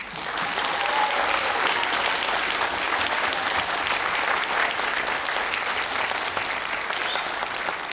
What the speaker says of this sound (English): Let's give it one last round of applause